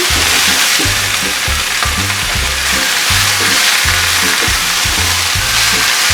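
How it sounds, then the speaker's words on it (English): Food frying in a pan with spinach and salt, stirred steadily over a loud continuous sizzle, with rhythmic scraping strokes close up. "Then give it a good stir."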